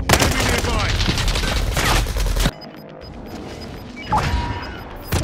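Rapid gunfire in a battle royale video game starts as a dense, loud volley of overlapping shots for a couple of seconds, then drops to quieter ambience before another short burst of fire.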